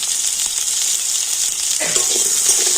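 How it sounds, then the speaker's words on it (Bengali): Potatoes dusted with a pinch of turmeric sizzle loudly in hot oil, a dense continuous frying hiss close by, with a brief stir and clatter near the end. "হলুদ দিয়ে একটু লাল লাল করে ভেজে নেব"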